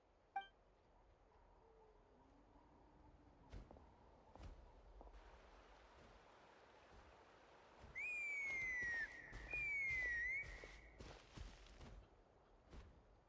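A melodic whistled tune with two rising-and-falling phrases over quiet ambient game sound, with a few soft clicks and footsteps.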